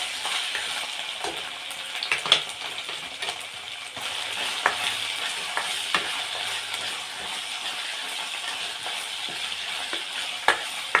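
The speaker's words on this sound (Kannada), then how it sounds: "1 table spoon ginger garlic paste ಹಾಕ್ಕೊಂಡಿದ್ದೀನಿ. ಇದು ಸ್ವಲ್ಪ ಹಸಿ ವಾಸನೆ ಹೋಗಬೇಕು." Ginger garlic paste frying in oil in a pan for egg masala, a steady bright sizzle with occasional scrapes and clicks of a spoon stirring, close and continuous throughout.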